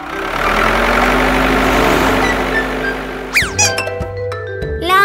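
A toy excavator's engine rumbles steadily and loudly for several seconds, then gives way to brief, squeaky sweeping electronic tones near the end, with no one speaking.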